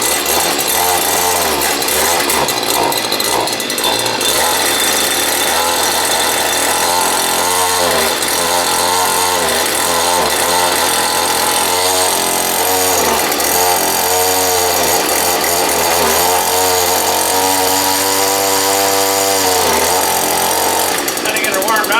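Three weed wackers cold-started and running without a half choke, several loud buzzing two-stroke trimmer engines revving and sputtering continuously, with a person talking over them.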